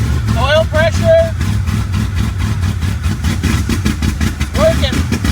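A 1975 Chevrolet Corvette V8 idles steadily after its first start, a low loud rumble running throughout, close by, with people talking and exclaiming over it.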